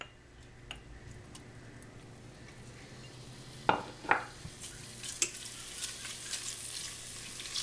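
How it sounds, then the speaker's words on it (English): Garlic and onions fry in olive oil in a pot with a soft, steady sizzle, broken by a few sharp clinks of a utensil stirring against the pot. "add in your garlic and your onions and let them start frying up"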